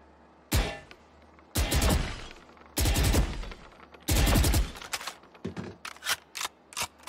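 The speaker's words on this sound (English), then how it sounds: "Let's try out some different guns on these targets" Shots fired at practice targets in the Valorant video game: four loud bursts of rapid automatic fire, each about half a second to a second long, followed by a quicker string of sharp single shots.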